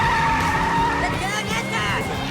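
A race car in a cartoon race skids with a sustained tire squeal and engine roar through the whole stretch. It is loud, and excited voices run beneath it.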